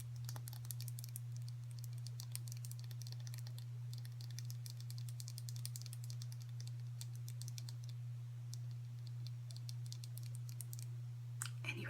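Acrylic nails tap and click steadily on makeup products such as a concealer tube, a dense run of light, crisp taps over a constant low hum, close up and with no talking.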